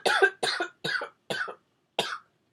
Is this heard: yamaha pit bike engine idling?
no